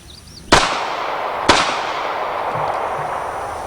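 Two sharp, loud .40 S&W pistol shots fired about a second apart outdoors, each crack followed by a long ringing echo.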